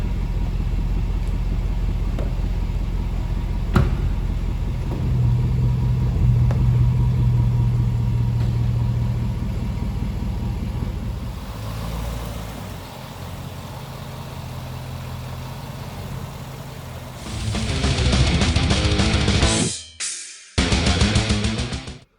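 A Jaguar XFR reversing with a steady low engine rumble near the microphone, shifting in tone midway and then surging louder toward the end before cutting off abruptly twice.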